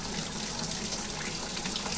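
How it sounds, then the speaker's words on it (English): Water gushing from a tap after an A.O. Smith electric water heater tank is filled, a steady, full-bodied rushing flow heard close with no talking. "we have water flowing out"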